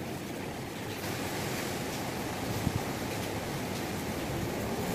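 Strong winds of Typhoon Molave before landfall roar in a continuous broadband rush, loud and gusting steadily, with a faint thud partway through.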